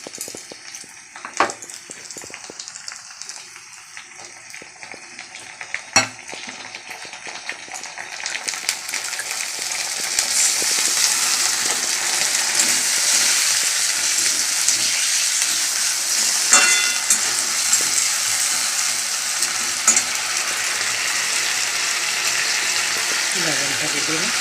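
Fried onion sizzles in a pan on a home kitchen stove as ginger and garlic are added, the frying hiss swelling louder and steadier partway through, with occasional utensil clinks.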